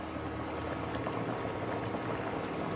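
Ghee goes into a pot of boiling lentil dal, heard as dense, steady bubbling and simmering over a few seconds, close up and free of talk.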